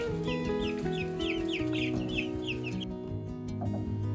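Cornish cross meat chickens cluck in a quick run of short, repeated calls over a steady low background hum, fairly close and moderately loud.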